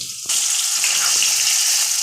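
Potatoes and vegetables frying in a pan set up a loud, dense hiss that surges in abruptly after a quieter start and then holds steady, close by, with no voices.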